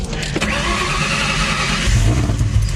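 A Terminator Cobra muscle car engine starts and revs close by, a loud rough idle rumble that swells into a throatier rev toward the end.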